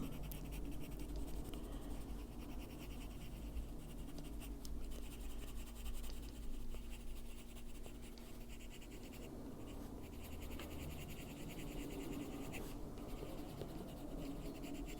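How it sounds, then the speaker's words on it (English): A Buff Titanium luminance colored pencil is worked over paper to soften shaded areas, giving a faint, continuous close scratching and rubbing with no talking. "Buff Titanium, which is a luminance pencil. And we're just going to go over some of those areas and soften it up."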